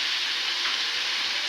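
Spices frying in hot oil for a meat roast, a steady, loud, close sizzle with no break, alone without talk.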